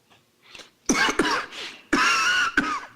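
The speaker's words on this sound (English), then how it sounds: "Sorry, I was coughing." A person coughs in several harsh bursts, loud and close, first in two quick coughs and then in a longer fit of two more.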